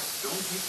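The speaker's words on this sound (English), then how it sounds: "This is how you use the airbrush." Short steady hiss of a Copic airbrush spraying colorless blender onto card background paper, a close, even airy spray lasting under a second.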